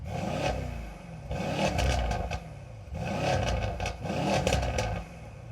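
A Mercedes C63 S Cabriolet V8 in Sport Plus mode revs hard in three repeated bursts, each rising and dropping away, loud and close with no talking.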